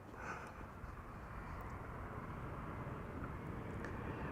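An airliner arriving at Amsterdam Schiphol from Toronto, flight 808, gives off a faint, steady, distant jet rumble with a low broadband roar and no distinct peaks.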